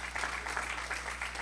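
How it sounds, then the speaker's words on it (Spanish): A church congregation claps together in a steady, dense wash of applause, moderately quiet and continuous with no talk over it. "¿Puede darle una ofrenda de palmas al Señor?"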